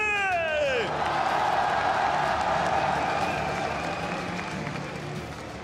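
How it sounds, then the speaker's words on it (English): A packed esports arena crowd applauds and cheers at the League of Legends MSI 2018 semifinals in Paris. Dense, sustained clapping fills the whole stretch, with a brief falling whistle at the start. "S'il vous plaît, une fois de plus, applaudissons tous ensemble et RNG!"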